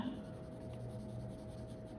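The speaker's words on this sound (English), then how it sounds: "I'm starting with my darker B pencil now, putting in the dark shadows. I'm pressing down with my pencil" A 4B graphite pencil shades dark shadows onto paper under firm pressure, giving a close, steady scratchy rasp that continues evenly throughout with no pauses.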